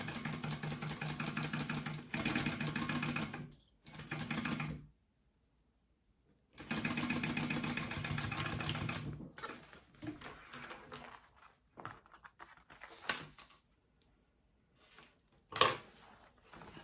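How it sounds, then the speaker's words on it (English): Close by, a sewing machine runs in several short bursts while basting a zipper onto a wallet, its steady motor hum stopping and starting with brief silent gaps and a few small clicks at the end. "I'm going to baste this on first, okay? So I'm just basting."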